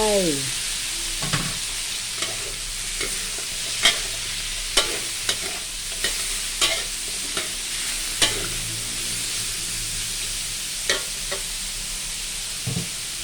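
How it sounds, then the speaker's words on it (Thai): Broccoli and other vegetables are stir-fried with pork in a pan, a loud continuous sizzle broken by regular scraping strokes and clacks of the spatula against the pan. "แล้วก็เอาผักทั้งสามอย่างลงไป"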